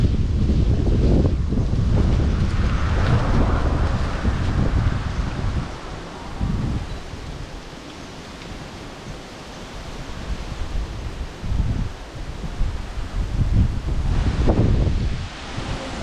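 Wind gusts across an open seaside spot, loud and constant, rumbling against the microphone and easing briefly in the middle before surging back, with no talk.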